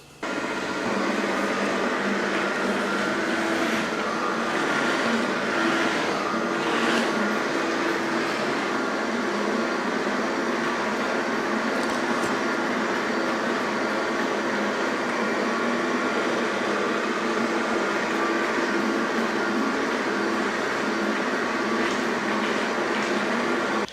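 A Hizero F803 bionic hard floor cleaner scrubbing a stained garage floor, a steady loud whirring motor drone running continuously and close up with no talk.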